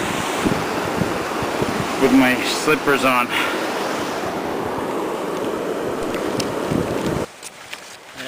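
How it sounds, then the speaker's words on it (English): A creek on a backpacking trail to Athabasca Pass in Jasper, Alberta rushes loudly and steadily in a broad wash of water noise. Someone speaks briefly over it before the sound drops away near the end. "having to cross the creek here."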